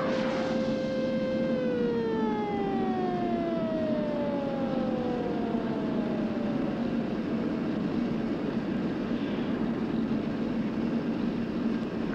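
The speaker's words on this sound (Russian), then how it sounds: "Механик, сирену!" A loud ship's siren, sounded as a signal to a schooner at sea, wails, its tones sliding steadily downward over several seconds and fading into a steady engine rumble, with no voices.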